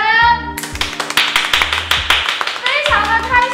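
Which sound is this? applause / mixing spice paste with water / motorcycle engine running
applause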